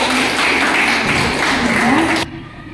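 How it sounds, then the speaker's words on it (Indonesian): A classroom of students claps together in a steady burst of applause that stops abruptly near the end, leaving a quiet room. "Tepuk tangan dulu"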